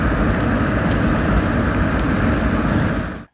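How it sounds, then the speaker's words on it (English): An electric car's low-speed pedestrian warning sound plays steadily while moving forward: a continuous, broad, engine-like rumble that holds even and fairly loud, then cuts off at the end. "if you are traveling forward at low speeds, you will hear this kind of rumbling noise"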